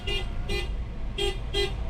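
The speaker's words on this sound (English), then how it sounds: "he honked his horn so that the deer would get scared and go away from the road" Four short car horn toots in a quick, uneven rhythm, loud and close, with a low engine rumble underneath.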